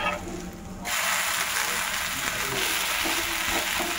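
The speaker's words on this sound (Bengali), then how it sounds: "এটা এপিট ওপিট সেঁকে ওই ভাজা রুটির মতো খেয়ে নিতে হবে" Pitha made from rice batter toasts on both sides in a pan, giving a steady close sizzle and crackle with no talking, preceded by a brief quieter moment.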